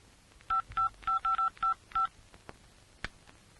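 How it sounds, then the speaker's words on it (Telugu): A phone number is keyed on a telephone keypad: about seven short, evenly spaced touch-tone beeps in quick succession, close and clear, followed by a couple of faint clicks. "ఇన్స్పెక్టర్ గారికి ఫోన్ చెయ్యి."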